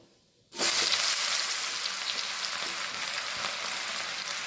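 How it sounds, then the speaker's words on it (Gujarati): Chopped onion drops into oil tempered with mustard seeds and asafoetida, setting off a sudden loud sizzle that stays strong and hissing, with faint stirring underneath. "હવે આપણે એમાં સેજ એક ડુંગળી ચોપ કરી લીધી છે એડ કરી લઈએ."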